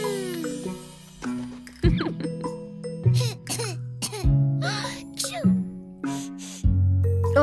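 Cartoon child coughing in a children's song animation, several short harsh coughs spread across the passage, loud and close over a sung, musical backing.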